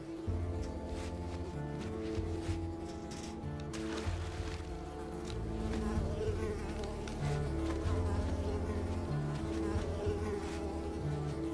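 Mosquitoes in the video game Unravel buzz in a steady, dense drone that lasts throughout, with low background music beneath the whine.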